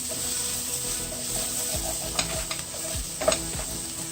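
Onions or spices sautéing in a pan over a low flame for a spicy South Indian chicken curry, a steady soft sizzle with several scraping stirs of a spoon near the end, close and alone.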